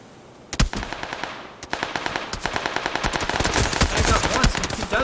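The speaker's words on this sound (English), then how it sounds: "Does return that fire and tags up Dougie Fresh" Rapid automatic gunfire from an Xbox One X competitive shooter match rattles in loud, dense bursts that build into sustained firing, close and prominent.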